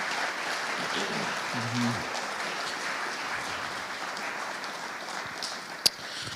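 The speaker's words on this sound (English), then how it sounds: "let's give them a round of applause" A lecture audience applauding the actors and collaborators, heard as a steady, moderately distant wash of clapping that carries on evenly for several seconds, with one sharp tap near the end.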